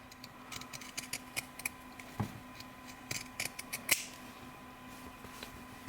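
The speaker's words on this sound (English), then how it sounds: "I'm just going to cut all the way across here just to get the excess off" Scissors snipping across layers of fabric to trim off excess while making fabric letter keychains, a run of light, crisp close-up clicks and snips in an uneven rhythm against a quiet room.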